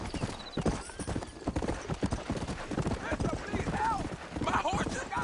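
Rapid hoofbeats of galloping horses pound close by, with a horse whinnying and people shouting over the clatter.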